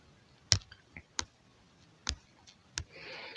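Computer keyboard keys pressed one at a time in a slow, uneven series of five or six sharp, close clicks, ending in a brief rustle.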